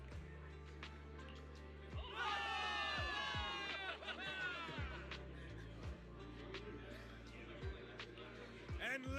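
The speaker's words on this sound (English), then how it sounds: "Give it up for yourselves, soldiers! Cheer for victory!" Game crowd of soldiers in Zenless Zone Zero cheering for victory, a rising burst of shouts and whistles at moderate level, with a voice speaking over the noise.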